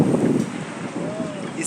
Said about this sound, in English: It's kind of windy and it's cloudy.